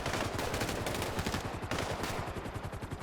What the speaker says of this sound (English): They're shooting? They're shooting.